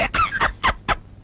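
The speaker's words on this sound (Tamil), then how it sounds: "கோழி" A chicken squawking, five short sharp honking calls in quick succession, close and fairly loud, with nothing else around them.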